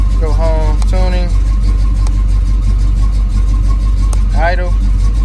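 An engine idles steadily and loudly nearby during Holley Sniper EFI tuning, with a constant low rumble throughout. Voices talk over it at intervals.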